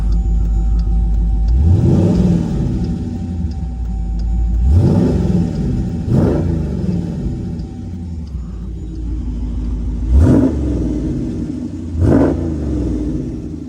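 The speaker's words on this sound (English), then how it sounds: "Let's give her a little rev." A cammed Jeep SRT engine idles with a steady low rumble, then revs up four times in short bursts, each rising and falling back to idle, close by.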